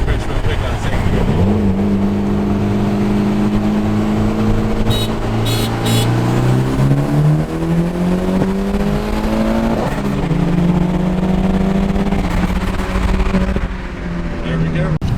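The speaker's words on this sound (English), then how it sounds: "I'm gonna try to burn Chris real quick on second gear." A Mitsubishi Evo fitted with a Turbosmart blow-off valve pulls hard in second gear. Its engine note climbs steadily and loudly through the run, then eases near the end, with some background noise underneath.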